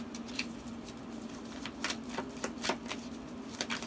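Tarot cards being shuffled in quick, irregular bursts of soft riffling and tapping, close up, over a low steady hum.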